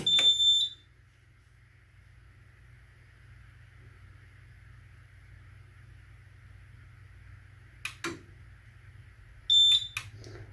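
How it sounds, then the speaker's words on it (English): A Simplex 4006 fire alarm panel powering up sounds a short electronic alarm beep burst, then stays quiet under a low hum before two more brief beeping bursts near the end, loud and close. "I am going to turn on the alarm panel."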